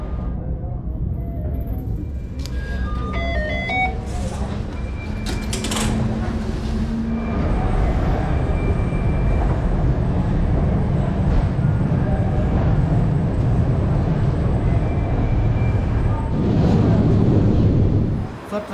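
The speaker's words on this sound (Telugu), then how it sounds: "ట్రైన్ అంతా ఖాళీ అయిపోయింది." Rumble and clatter of an Istanbul metro train in motion, a steady loud low roar with wheel noise swelling toward the end, as people talk over it.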